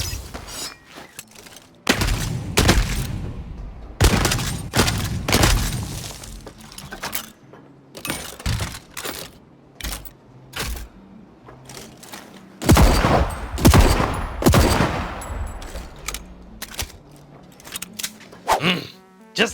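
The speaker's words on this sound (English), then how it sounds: "the weapons were the highlight for me, which were super punchy and had some real meat to them" Weapons firing in the video game Deathloop, punchy bursts of gunfire with heavy thuds and impacts, coming in repeated volleys and separated by short pauses, loud and up close, with hardly any talk.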